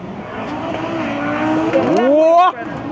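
Racing cars at a car show, a BMW among them, with an engine note that climbs and revs hard to a loud peak before cutting off, over crowd noise and talk.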